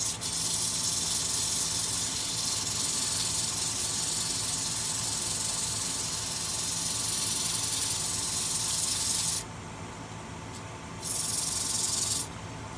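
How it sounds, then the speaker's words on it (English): A cherry wood bowl spinning on a lathe is sanded with 100-grit sandpaper, giving a continuous close, rough hissing rub that drops away briefly before resuming. "so I can get in there and sand it just a little bit"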